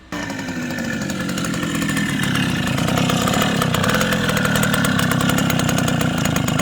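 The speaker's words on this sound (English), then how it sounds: "Perfect like a kitten. It's got a fresh bore on it with a new piston." A restored 1974 Honda MR50 motorcycle with a freshly bored cylinder, new piston and rebuilt crank runs steadily close by, its small engine buzzing loud and even without pause.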